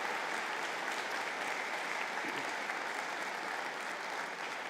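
A graduation audience at a conferring ceremony applauds the MBA class, a continuous, even roar of many clapping hands heard from a distance at moderate level throughout.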